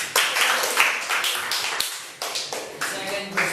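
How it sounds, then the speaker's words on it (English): Delegates at a Model United Nations session applaud after a resolution vote, making a quick, uneven patter of hand claps and taps with some voices mixed in. "Applause is in order."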